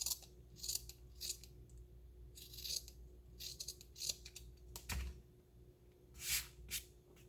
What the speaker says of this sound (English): we're going to clip our seam allowance down just a little bit more